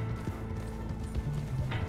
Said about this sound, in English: Not faster than my horse, though.